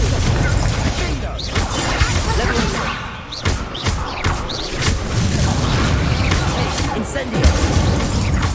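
Repeated Confringo fire-blast spell explosions in the game Hogwarts Legacy, a dense run of booms, thuds and crashing impacts over busy game sound, loud and continuous throughout with no quiet gaps.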